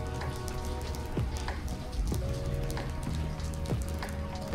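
Rain falling in the Maldives, a constant close patter of drops on a hard surface punctuated by heavier, louder drips at irregular intervals, with no voices.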